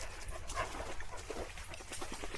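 A Cane Corso or Labrador pants on a woodland walk, quick rhythmic breaths close by over a steady background rustle of outdoor noise.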